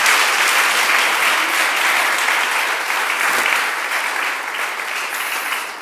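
A church congregation claps together as an offering of praise during a Spanish-language sermon, a dense, steady wash of many hands that holds loud throughout and eases off only slightly toward the end.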